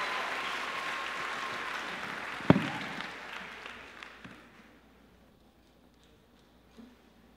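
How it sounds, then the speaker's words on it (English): Pageant audience applause for the contestants' parents and families, a burst of clapping from a crowd that peaks early with a sharp thump, then thins and fades to near silence within a few seconds. "a big round of applause for all of the parents and families of these 17 amazing contestants"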